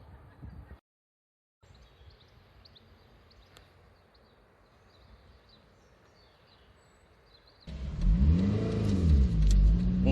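2000 Toyota MR2 (W30) roadster being driven, with quiet cabin and road noise at first, then the mid-engine revs rising loudly through several accelerating sweeps near the end.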